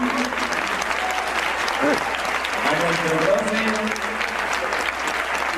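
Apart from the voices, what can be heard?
audience applause for the dance teacher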